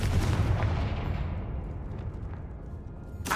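A Confringo blast spell fired in the video game Hogwarts Legacy: a heavy, booming burst that rumbles and slowly fades, followed by a sharp, crackling flare at the very end.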